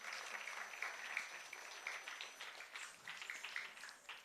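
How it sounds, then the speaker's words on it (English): An audience at a Kathak rangapravesh dance debut applauds itself, a faint, distant wash of many hands clapping that holds steady throughout. "Can you please give a huge round of applause for yourselves as well?"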